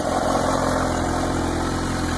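A 2015 Kawasaki Ninja H2 supercharged motorcycle idles with a steady, continuous engine hum, fairly quiet and unchanging throughout, with no talk over it.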